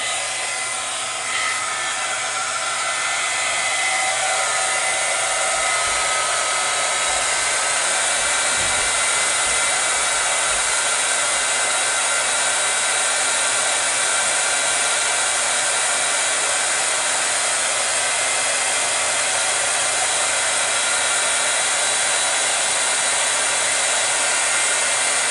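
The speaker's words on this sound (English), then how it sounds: "If you're going to use a heat gun and metal, use pliers or something that will protect your fingers because it's going to get hot." A heat gun blows hot air onto a metal craft embellishment, giving a loud, steady, breathy roar that runs unbroken and close for the whole stretch, with no talking.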